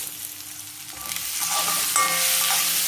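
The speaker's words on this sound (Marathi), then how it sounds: "छान मसाले भाजून घ्यायचं." Spices roast in a hot pan with a soft sizzle that swells after a moment as they are stirred, close and steady, with no talking.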